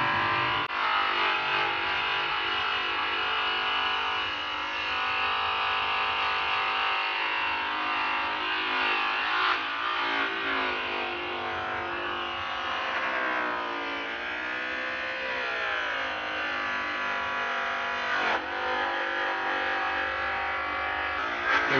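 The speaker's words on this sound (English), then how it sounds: "He's going to use Zephyr's fast cut buffing wheel with the triple bar rouge." A fast-cut buffing wheel loaded with triple bar rouge polishes an aluminum wheel, producing a steady, loud motor whine with slight pitch dips as pressure changes, with no talking.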